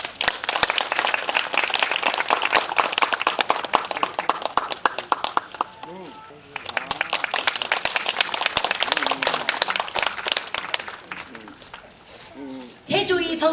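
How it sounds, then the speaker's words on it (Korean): Audience applause at an outdoor cultural arts festival at a royal tomb site greets a pansori singer, dense clapping sustained for several seconds, easing briefly before swelling again, with a voice breaking in near the end. "큰 박수로 맞아주시죠"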